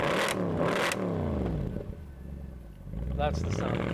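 The hand-built V8 in a Mercedes C63 AMG revs in sharp bursts, dips to a lower rumble, then revs again near the end, with talking mixed in.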